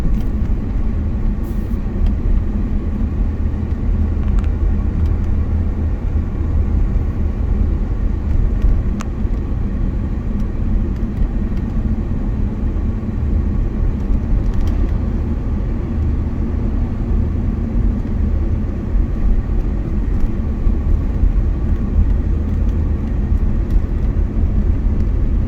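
Interior road rumble from a 1996 Ford F150 4x4 pickup with automatic transmission, driving steadily on a rural road with the engine's low drone continuous and loud throughout, any kickdown shift blending into the even cabin noise.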